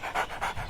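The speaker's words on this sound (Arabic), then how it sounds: "تفضل أيها الكلب المسكين، اشرب الماء الذي في الخف." A thirsty dog in the hot desert pants after drinking water from a shoe: quick, rhythmic, breathy pants, close and fairly loud, with no voices.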